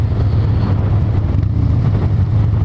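A motorcycle being ridden gives off a loud, steady, close engine drone with continuous low rumble and wind buffeting throughout, with no clear gear changes.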